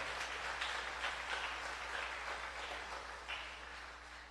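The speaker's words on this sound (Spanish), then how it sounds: "Denle un fuerte aplauso a Jesús." A church congregation claps together in worship, a steady wash of applause that sounds slightly distant and gently tapers off.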